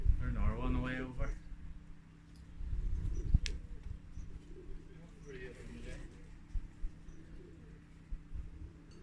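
Soft pigeon cooing at a pigeon racing derby, low and steady, running beneath background noise and distant voices, with a brief sharper sound partway through.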